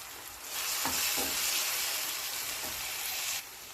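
Ground spices such as cumin, chili powder, garam masala and pepper being stirred into a tomato prawn curry base in a hot pan, a steady sizzle with scraping stir strokes lasting about three seconds, close and clear with no talk.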